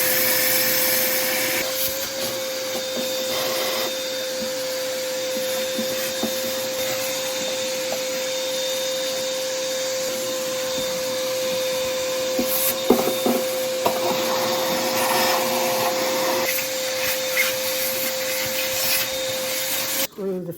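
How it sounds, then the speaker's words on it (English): A vacuum cleaner runs steadily and loudly for the whole stretch, cleaning out the inside of a Wolf Foredom abrasive blaster cabinet, including around the gloves and nozzle, with brief rubbing and knocking as the hose moves about. "We're going to vacuum out every nook and cranny of this, including around the gloves and in the nozzle."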